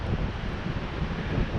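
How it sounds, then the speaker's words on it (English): Outdoor wind at a November winter camp at Picklejar Lakes roars steadily across the microphone, loud and continuous with low buffeting rumble and no talk. "the wind picks up"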